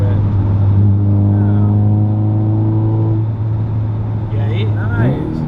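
A Saturn Ion Redline accelerates hard from the cabin, its engine note a loud steady drone climbing gradually in pitch for several seconds before easing off, with a voice briefly heard near the end.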